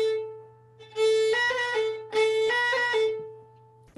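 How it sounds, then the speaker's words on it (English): A fiddle plays a short repetitive phrase twice, adding a quick extra ornament note within each pass, bright bowed tones over a steady low drone, close and alone without talk. "I'm actually just doing a little extra note that sounds like this."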